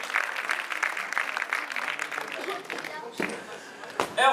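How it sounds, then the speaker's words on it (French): An audience at a boxing champions' night in Melun applauds in a steady wash of clapping while an announcer talks over it, ending with a few louder nearby claps and thuds. "Applaudissements s'il vous plaît pour Jedid Ali."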